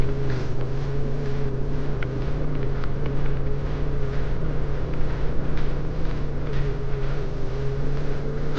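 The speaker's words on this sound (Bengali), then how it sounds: "আমার গাড়ি ফার্স্ট গিয়ারে উঠছে, আস্তে আস্তে উঠছি" Car climbing a steep, rough mountain road in first gear on the way from Siliguri to Lachen in Sikkim, a steady loud engine drone with wind buffeting throughout, no voices.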